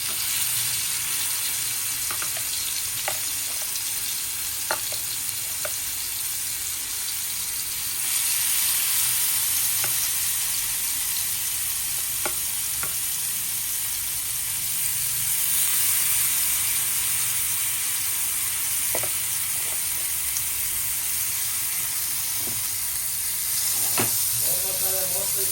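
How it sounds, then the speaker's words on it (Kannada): Marinated fish fries in a pan with a constant, close sizzle and hiss. Occasional light clicks and taps stand out over the steady crackle for the whole stretch. "ಸೊ ಒಂದೊಂದೇ ಫಿಶನ್ನು ಪ್ಯಾನ್ ಮೇಲೆ ಪ್ಲೇಸ್ ಮಾಡ್ತೀನಿ."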